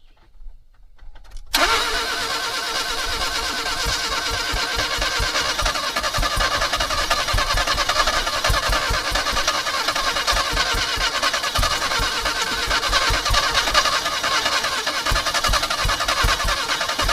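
An engine that is getting fuel but not firing cranks over steadily for a long stretch, a loud, continuous rhythmic churning of the starter heard up close with no talk.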